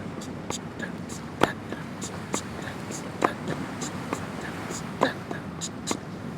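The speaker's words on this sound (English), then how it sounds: "Let's first break down the hand pattern nice and slowly so you can hear the ghost notes and the backbeat" A drum shuffle hand pattern played slowly on hi-hat and snare without bass drum: quiet, steady clicks of hi-hat and soft ghost notes, with a sharper snare backbeat landing about every two seconds.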